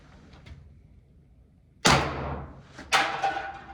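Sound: shot from a Walther PPQ T4E RAM pistol at an aluminium can

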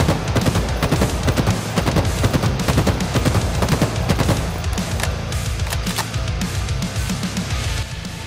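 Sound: BR-75 battle rifle gunfire from video game Halo Infinite

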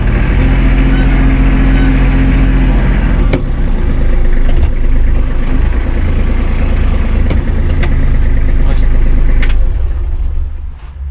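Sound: Hinomoto NX 321 compact tractor engine while driving

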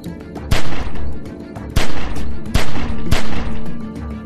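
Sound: gunfire in The Walking Dead: 400 Days video game

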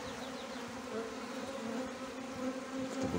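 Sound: honey bee colony buzzing during hive inspection

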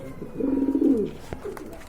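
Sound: pigeons cooing

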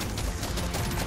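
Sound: video game sniper rifle gunshots

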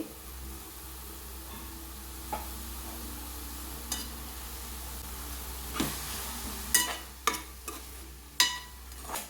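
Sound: onions and tomato frying and being stirred in a pan

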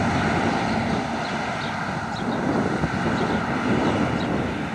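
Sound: New Holland combine unloading into Massey Ferguson tractor

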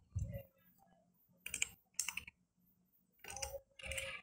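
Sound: typing a file name on a computer keyboard

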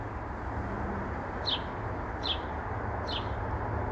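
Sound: birds chirping outdoors on a porch

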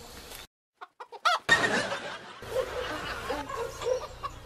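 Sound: chicken clucking

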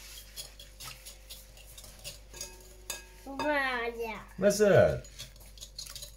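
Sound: stirring a cake mixture in a bowl

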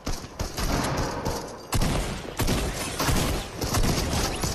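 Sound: infantry rifle gunfire in a video game battle

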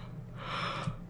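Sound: yawn

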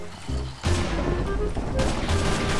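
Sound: gunfire from zombies shooting, Minecraft video game

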